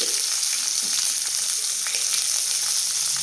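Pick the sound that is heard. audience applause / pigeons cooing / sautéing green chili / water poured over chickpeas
sautéing green chili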